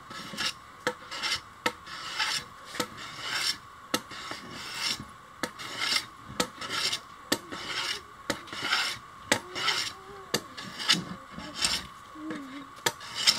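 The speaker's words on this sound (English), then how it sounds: "do you want to grab the hand planer? Okay. Not the power one, the manual one." Manual hand planer shaving dense mangrove wood for a pickaxe handle, repeated short rasping strokes in an uneven rhythm at close range, fairly quiet with no voices.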